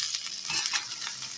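A medium tomato drops into a pan of frying potatoes and brinjal, and a continuous, bright sizzle follows with faint stirring scrapes, close and steady, with no voices.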